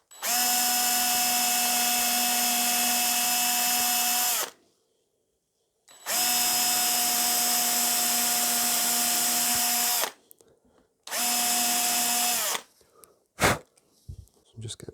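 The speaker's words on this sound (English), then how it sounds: "So I'll just wrap a piece of tape around the drill bit just to act as a guide for how far I want to drill in" A power drill with a piece of tape wrapped around its bit as a depth guide whines loudly in three long, steady bursts separated by pauses, followed by a few short clicks and knocks.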